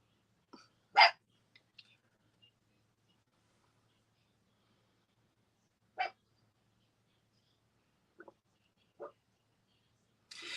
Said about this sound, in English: someone can get the dog away from my door